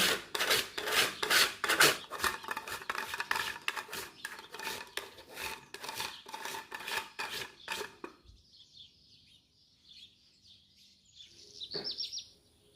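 Dark chocolate rasped on a grater over a layered cake, a fast steady run of close, dry scraping strokes that stops partway, leaving quiet room tone with a faint clink near the end.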